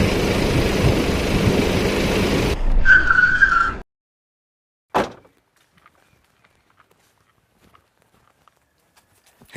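A car slows and brakes to a halt, with a brief high squeal as it stops. A sharp thump follows, and then near silence.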